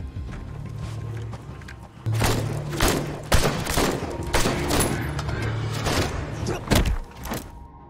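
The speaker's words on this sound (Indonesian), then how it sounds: "Sempat terjadi baku tembak" Rapid bursts of gunfire from a film shootout in the forest, loud close volleys and cracks layered over movie sound and rumbling low tones.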